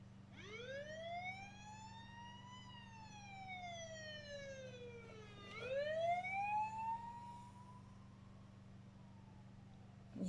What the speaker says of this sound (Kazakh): Полиция машинасы кетіп бара жатқан кезде осындай дыбысын шығарады екен